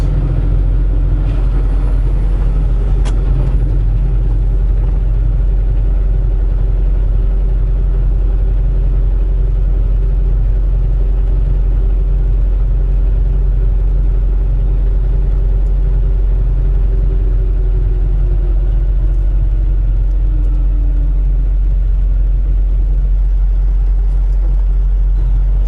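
A truck's engine drones loudly and steadily in deep rumbling tones from inside the cab, with a sustained engine-braking note that slowly falls in pitch before fading near the end.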